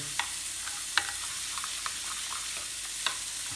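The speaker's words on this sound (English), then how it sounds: "Give it a nice stir." A spoon stirs a burger mixture in a bowl, giving a few soft scrapes and clicks over a steady background hiss, quiet and close.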